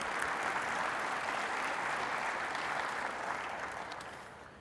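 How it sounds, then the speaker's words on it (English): Steady, dense applause from an audience at a Ford Maverick vehicle event fills the space for several seconds, thanking the exhibitors, then gradually fades toward the end. "let's give them a little applause for exhibiting"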